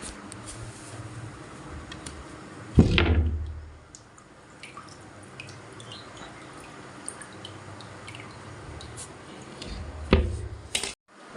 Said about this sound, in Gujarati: દરવાજો